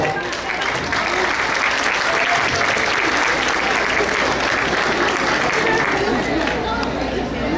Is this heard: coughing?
no